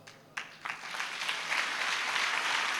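A church congregation breaks into applause, starting with a few sharp claps that quickly build into steady, full clapping sustained to the end.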